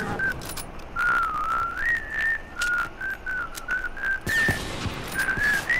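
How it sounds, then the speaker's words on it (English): A person whistles a wavering, tuneless melody in short phrases, loud and close, over a background of gunfire and game noise during a gaming session. "Please stop whistling."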